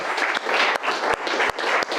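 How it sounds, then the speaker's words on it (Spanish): Sustained applause from a church congregation honoring the mothers on Mother's Day, a dense, steady wash of many hands clapping near and loud, with a few brief dips in the clapping. "Un aplauso"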